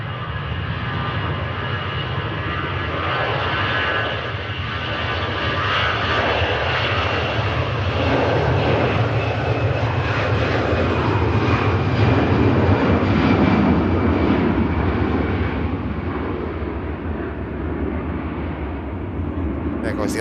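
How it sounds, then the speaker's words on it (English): An ITA Airways jet takes off from Manchester Airport with a loud, sustained engine roar that builds and swells as it rolls and climbs away, over a constant broad rumble. "we're just going to watch this ITA rotate and get out of here first"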